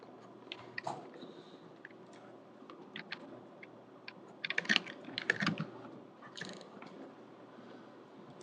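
Quiet keyboard and mouse clicks tick irregularly near the microphone, with a busier cluster of sharp clicks in the middle and no voices.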